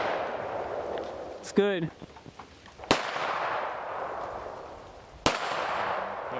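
Firearms are shot in three sharp, loud reports spaced a second or two apart, each ringing briefly. People talk between the shots.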